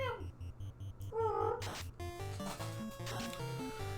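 A pet cat lets out a short, rising meow in the background over looping chiptune music from the NES game Final Fantasy.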